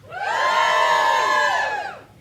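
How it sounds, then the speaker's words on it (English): Comedy-club audience in Cardiff cheers loudly when the Whitchurch area is called out, a dense crowd roar with whoops that swells quickly, holds steady for about two seconds, then fades. "Give us a cheer if you live in the Whitchurch area of Cardiff."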